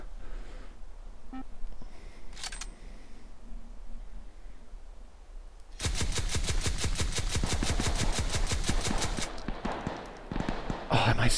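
Rapid full-auto bursts from an AA-12 shotgun in a VR game, a dense loud salvo of shots lasting several seconds after a quieter lead-in with a few scattered sounds.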